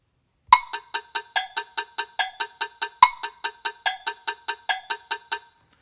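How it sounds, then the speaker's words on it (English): Tonal Energy app metronome clicking steady sixteenth-note subdivisions, a sharp accented click opening each bar of four beats; crisp, close and alone, with no talk. "I can subdivide in 16th notes."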